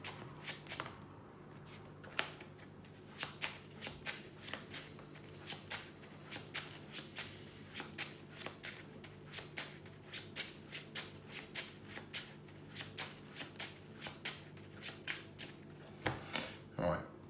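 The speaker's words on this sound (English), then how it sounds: "I'll reshuffle." Playing cards for a Transformers trading card game are shuffled in a steady run of crisp riffling bursts, close by, with a brief pause near the start and a final flurry at the end; light voices sit faintly underneath.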